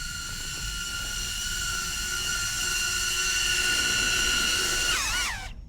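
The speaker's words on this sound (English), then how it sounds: "right now I'm on hover mode and you can hear the propellers whirring in the background" Propellers of a HoverAir X1 Pro drone whir in hover mode, a steady high-pitched whine with a constant tone that holds close and loud before bending and cutting off near the end, with no talking.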